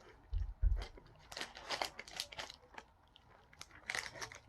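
Close crunching of a crunchy chocolate-coated cookie being bitten and chewed, a few low bites followed by a string of crisp crackles, fairly quiet and alone.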